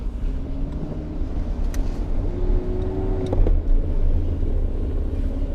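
A car drives along A1A in Cocoa Beach after Hurricane Milton, its steady low road rumble and engine hum continuous and close, with a brief louder swell midway and a faint tonal whine.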